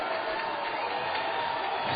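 A soccer crowd raises a mock cheer for the referee after a foul call, a broad, steady roar of many voices that holds evenly from start to finish.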